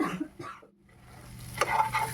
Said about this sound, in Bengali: মশলাটাকে নেড়ে চেড়ে ভালো করে ভেজে নেব